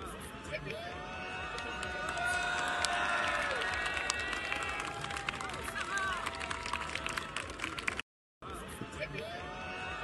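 A crowd at a political rally on Place du Châtelet in Paris claps steadily, lively applause that carries on throughout with voices mixed in.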